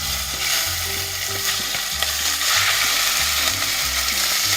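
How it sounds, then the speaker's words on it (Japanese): Meat searing in oil in a pot over medium heat for home-style curry, a loud steady close-up sizzle and crackle that runs throughout alongside a low rhythmic mechanical hum. "油をひいて肉を炒めるんじゃなくて焼いていきます"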